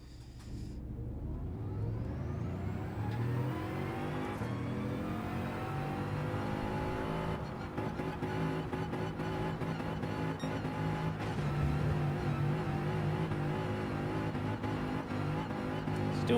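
A Bugatti Veyron's engine in the racing game Gran Turismo 7 sweeps up steadily through the revs with audible gear shifts, a sustained whirring drone heard from inside the race.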